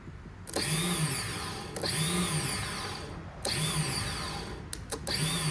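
Rebuilt LTZ400 ATV starter motor spinning on a bench while clamped, four bursts of a high-pitched electric whine, each starting abruptly, holding for about a second or more and winding down, close and loud.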